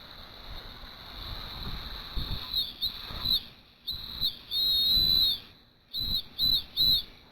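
A high-pitched homemade whistle made from tube with a drilled hole is blown in several short and long piercing blasts, loud and close, after a quieter stretch of handling noise.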